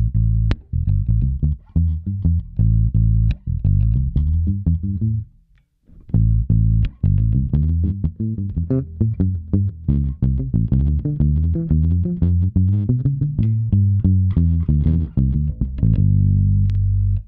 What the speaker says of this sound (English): my favorite tones are with the pick on this thing. Palm muting with a pick all across this